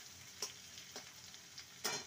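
Onion with grated ginger and garlic sizzles and fries in a pan as it is stir-fried into a masala, a soft steady hiss broken by a few brief spatters and stirring scrapes, with no talk.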